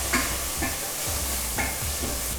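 Spice masala for Hyderabadi chicken korma, with chili powder, turmeric, cumin powder and garam masala, roasts in a pan, giving a steady sizzle with a few stirring scrapes close by.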